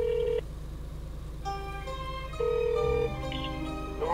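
A telephone sounds short electronic tones while a call is placed to someone's father, with steady beeps separated by brief pauses over a constant low background hum.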